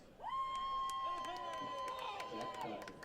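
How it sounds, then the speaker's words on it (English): A crowd at a high school lacrosse game between Elder and Hersey roars loudly and keeps a sustained cheer going for about three seconds, with shouts and whistles rising through the noise. "big roar from the crowd there."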